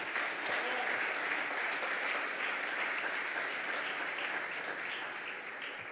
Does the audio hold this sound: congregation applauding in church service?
yes